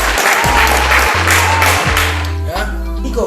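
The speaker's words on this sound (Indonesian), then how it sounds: "Tepuk tangan dulu untuk teman-teman Papua Barat." Audience clapping for young Papua Barat police academy recruits, loud and continuous throughout, over a strong low droning hum and background chatter.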